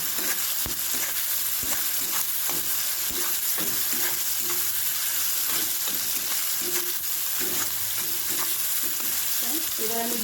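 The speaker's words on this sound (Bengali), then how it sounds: "মশলাটা যখন একেবারে ভাজি ভাজি হয়ে যাবে, তেল ছেড়ে দেবে" Spice masala for ghugni frying in hot oil, a dense close sizzle and hiss with repeated scraping stirs of a spoon in the pan, steady throughout.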